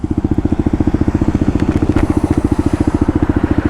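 Herald Maverick 125cc fuel-injected motorcycle, a 2020 Euro 4 model, idling with a rapid, steady, even pulse that stays loud and close throughout, with faint clatter on top and no talking.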